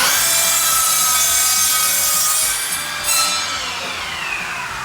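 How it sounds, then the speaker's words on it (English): Steady back-and-forth rasping of a power saw cutting a wooden batten into pieces, loud and close, continuous with a brief change in tone partway through. "I grabbed some pieces of batten I had lying around, cut it down into about 6 different pieces."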